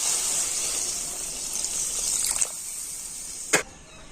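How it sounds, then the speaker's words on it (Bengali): Water gushes from a container into a pan of spiced ridge gourd and potatoes, a steady hissing pour for about three seconds that ends with a brief clunk. Nobody speaks. "আর এবার আমি দিয়ে দেবো জল"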